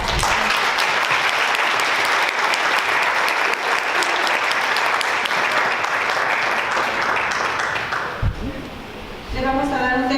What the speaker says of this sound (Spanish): le damos otro fuerte aplauso.